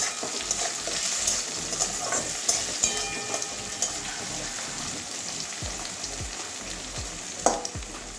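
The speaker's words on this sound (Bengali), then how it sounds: "আলুটা হাফ ভাজা হয়ে গেছে।" Half-cooked potatoes fry in a pan with oil for a Bengali okra and potato dish, a steady close sizzle broken by scraping stirs and light clatter of a utensil against the pan.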